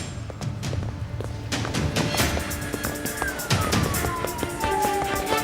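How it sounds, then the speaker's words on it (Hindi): An ambulance siren wails in rising and falling sweeps over busy traffic noise, with scattered clanks and knocks in the foreground. "एम्बुलेंस रास्ते में है"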